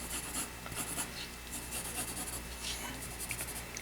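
A pencil scratches steadily across paper while sketching a chair, with soft, continuous rubbing strokes that are faint and close.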